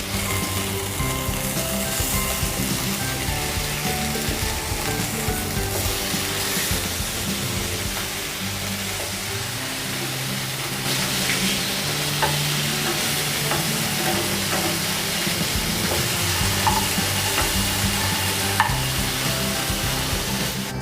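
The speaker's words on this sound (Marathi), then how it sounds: "आता आपण दुसऱ्या साईडला फ्राय करणार आहोत।" Surmai (kingfish) steaks fry on a hot tawa with a steady, dense sizzle that holds close and loud throughout, broken only by faint scraping and shifting of the pieces, with no voices.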